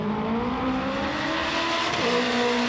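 A drag race car makes a solo pass at the IFO Las Vegas 2019 event, its steady, loud engine drone holding a rising pitch throughout, broadband and continuous with no voices.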